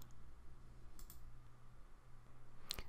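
A few sharp computer mouse clicks, quiet and close, spaced well apart over a faint steady background hum with no speech.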